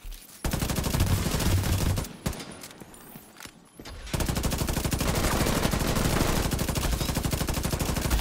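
Dense, rapid gunfire from The Division 2 video game crackles almost continuously in a multiplayer PvP firefight, with a short lull in the middle before the shooting resumes, loud and close.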